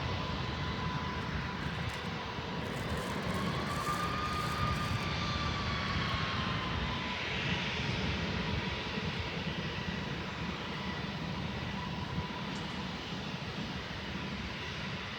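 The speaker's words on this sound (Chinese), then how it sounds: "四川航空的 A310。" Sichuan Airlines Airbus A310 in a special painted livery with its engines droning steadily and loudly throughout, a broad continuous roar with a faint rising whine as power builds at the airport.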